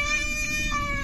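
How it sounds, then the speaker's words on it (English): A goat in the video game Resident Evil Village gives a short bleat, a wavering nasal cry set over a low, continuous game background, with no speech. "I found another goat."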